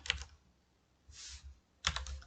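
Computer keyboard typing for a math document, in three short bursts of clicks, one at the start, a softer patch in the middle and a louder cluster at the end, close and otherwise quiet.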